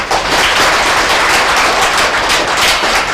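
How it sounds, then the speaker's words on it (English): A large audience applauds steadily throughout, a dense continuous wash of clapping with no voices over it. "A huge round of applause for this woman."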